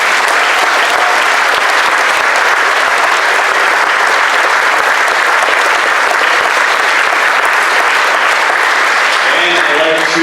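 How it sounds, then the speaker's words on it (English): A banquet crowd gives the Laker girls basketball players a long, loud, sustained round of applause that fills the room steadily, easing off near the end. "Let's give these ladies a big round of applause."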